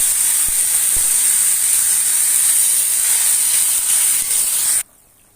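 Water poured into a hot karahi with spices sets off a loud, steady steam hiss and sizzle, holding at full strength for several seconds before stopping abruptly.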